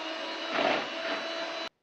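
Electric mixer whipping egg whites for a cake, a steady whirring motor hum that swells briefly in the middle, then cuts off abruptly near the end; no voices.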